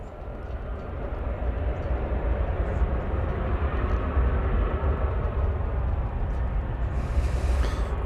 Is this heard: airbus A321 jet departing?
yes